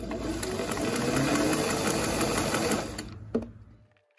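A sewing machine runs a long basting stitch on a Regency ballgown's dress lining, a steady close whirring hum for about three seconds before it stops with a brief clunk and falls quiet.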